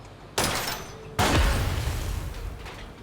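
A net explosion in the video game SteamWorld Heist II: a sharp burst followed a moment later by a louder, boomier blast whose rumbling tail trails off.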